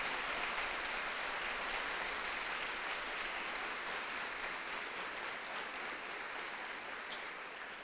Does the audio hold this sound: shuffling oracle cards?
no